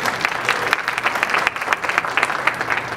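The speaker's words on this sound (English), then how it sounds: "Round of applause for John, please." An audience at a community education session applauds, giving a dense, continuous burst of many hands clapping at close range throughout.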